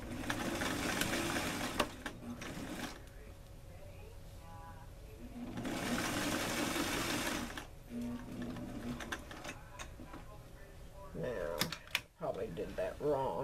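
A sewing machine stitches a tailored placket in two loud bursts of rapid mechanical whirring, with quieter handling noises and a voice speaking between them.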